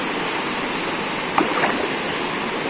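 A river current in General Nakar, Quezon, flows with a steady, loud, broadband rush of water and a faint splash midway, with no voices.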